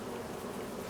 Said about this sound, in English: Look at the bees. Get to work, busy bees.